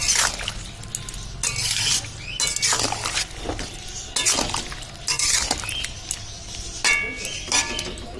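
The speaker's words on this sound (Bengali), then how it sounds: "আমি একটু নেড়ে চেড়ে নিচ্ছি যাতে কুলের সাথে গুড়টা সুন্দর করে মিশে যায়" Spoon stirring dried jujube pickle with jaggery in a pot, producing irregular bursts of scraping and clattering against the pot, close and moderately loud, with no speech.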